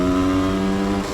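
A 1990 Yamaha DT 200R motorcycle engine runs close and loud, holding a steady, buzzing tone with no voices over it.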